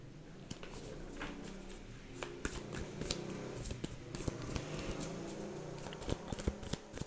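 Tarot cards being shuffled by hand, a run of soft riffling flutters and sharp little taps and slaps, close and fairly quiet, continuing throughout.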